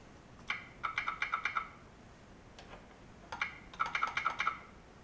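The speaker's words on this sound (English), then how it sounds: "And it's suggesting I try sending the same letter on the telegraph key, so here goes." Telegraph key sending Morse code, heard as two quick bursts of sharp, tinny clicks in rapid rhythmic groups separated by a short pause, fairly faint against background hiss.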